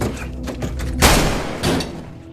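Gunfire in a film scene: a few muffled thuds lead into one sharp, loud shot and a second fainter report, each decaying quickly, with no voices.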